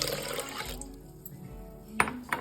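Water pours into a pressure cooker holding soaked rice and lentils, a steady close splashing rush at the start that eases into a quieter trickle, followed by a couple of sharp clinks.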